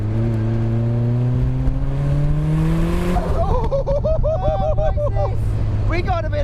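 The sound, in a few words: turbocharged Mazda MX-5 engine accelerating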